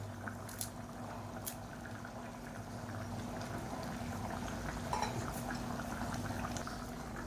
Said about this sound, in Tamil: நல்லா கலந்து விட்டுட்டு கொதிக்கட்டும்.